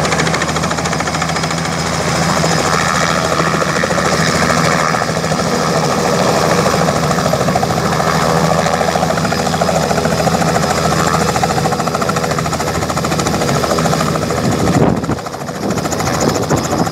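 A helicopter bringing a family home in Pune runs loud and close, its engine whine and rapid rotor chop droning continuously, with a brief dip near the end.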